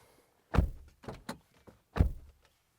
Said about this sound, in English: This is what the door slam sounds like.